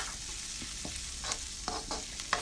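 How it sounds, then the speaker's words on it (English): Onions and tomatoes fry for a chicken curry, a loud, steady sizzle close by with a few spoon scrapes and knocks in the pan, and no talking. "So as you can see now, the onions are almost fried now."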